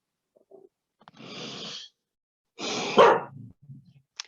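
A dog makes short bursts of noises, snorting, huffing and rumbling grunts separated by silent gaps, close by in a quiet room.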